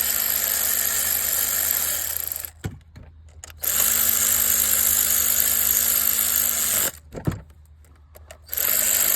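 An electric ratchet tightens coil boots on a Ford 1.5 EcoBoost engine in two loud whirring bursts, each a few seconds long, broken by a short quiet pause with a clack.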